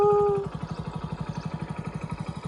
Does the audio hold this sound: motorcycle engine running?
yes